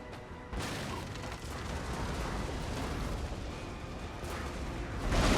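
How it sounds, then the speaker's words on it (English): Broadband roar of a grapeshot barrage from ship cannons in the Napoleonic naval game Napoleon: Total War, a dense continuous rumble of overlapping blasts that swells louder near the end. "Let's see if we can get a grape shot barrage sent."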